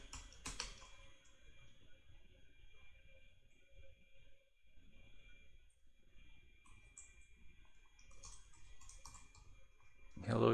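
Keys clicking on a computer keyboard as C code is typed, a quiet, irregular patter running through the stretch under a low background hum.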